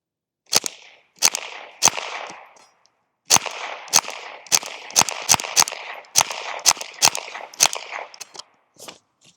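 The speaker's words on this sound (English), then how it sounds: "let's go ahead and shoot some rounds here, about 10 yards." A .22 rifle in a SRUNA 22 bullpup chassis fires about fifteen sharp, close shots at a 10-yard range, first a few spaced single rounds, then after a pause a quicker run of shots with short gaps between them.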